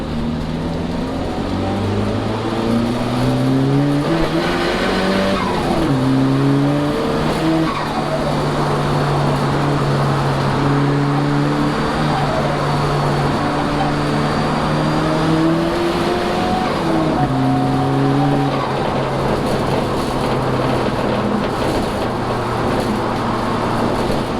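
A car driven hard with extra boost on a test run, its engine note rising and falling through repeated gear changes, a loud close drone with swooping pitch shifts across the whole stretch.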